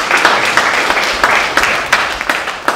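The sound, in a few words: congregation applauding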